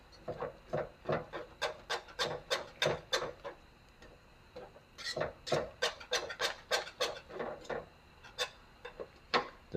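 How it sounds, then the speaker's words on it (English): Whisking nutmeg powder into a pot of Jamaican plantain porridge, rapid scraping strokes in quick bursts with a short pause midway, close and fairly loud with no talk. "and whisk it in."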